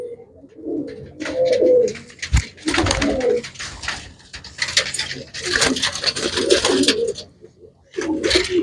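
Pigeons cooing close by in a loft, soft repeated throaty coos with fluttering and shuffling, a voice briefly mixed in.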